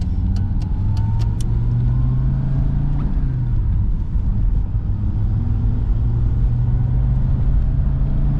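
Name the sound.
Audi coupe car driving and accelerating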